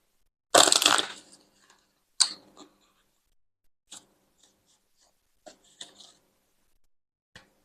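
Tarot cards shuffled and handled during a reading: one sharp riffle burst followed by scattered soft taps and flicks of cards over several seconds, close and quiet with no talking.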